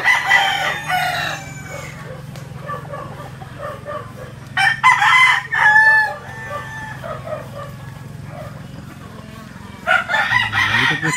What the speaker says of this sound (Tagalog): Ito po kami ngayon sa aming manukan. Ito po ang aming munting manukan.